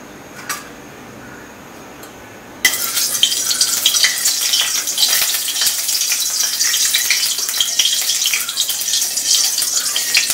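Bay leaves drop into hot oil in a pan for a prawn malai curry, and a loud, steady sizzle crackles up suddenly after a few quiet seconds, then continues evenly up close.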